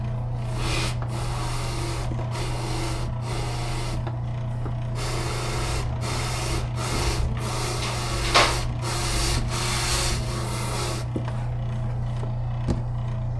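A motorized taxidermy fleshing wheel works a bird skin, with a steady droning hum and rapid, rhythmic scraping pulses running continuously at close range, with no voices.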